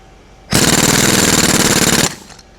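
Impact gun hammering as it tightens cylinder head bolts on a Cummins N14 diesel, one loud continuous burst of rapid rattling impacts lasting about a second and a half, then stopping abruptly.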